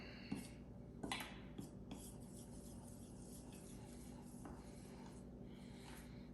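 A utensil scrapes and clinks against a bowl while mixing flour and water into poolish, with irregular faint taps and rubbing strokes, a few sharper knocks early on, otherwise quiet.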